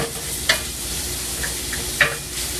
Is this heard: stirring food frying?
yes